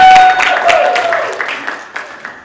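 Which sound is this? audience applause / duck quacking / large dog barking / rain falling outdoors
audience applause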